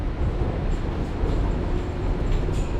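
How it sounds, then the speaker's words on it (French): Steady loud low rumble of a metro train and station ambience at McGill station in Montreal, continuous and close with no talking. "Donc là je rentre au métro McGill"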